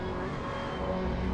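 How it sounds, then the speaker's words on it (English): Orange and black McLaren race car in a racing sim game at the Nurburgring, a continuous loud engine drone held steady over a short stretch with no voices. "Switch to Bracken now in the orange and black McLaren"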